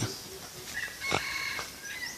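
A jungle fowl crows outdoors in a rural Thai village yard, a short hoarse crow and clucking calls mid-distance, with other birds chirping faintly around it.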